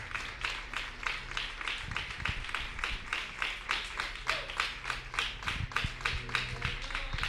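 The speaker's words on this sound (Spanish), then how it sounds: "Ahí le damos la bienvenida con un fuerte aplauso" A church congregation claps in a steady, even rhythm to welcome guests during a Saturday service. The beat is quick and sustained, with a low hum underneath, heard at a moderate distance.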